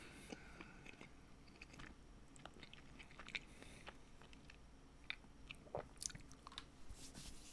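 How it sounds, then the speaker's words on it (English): Someone chews pizza right beside the microphone, with wet bites and crunchy mastication repeating over a faint background hum. "are like the sounds of me chewing going through the microphone?"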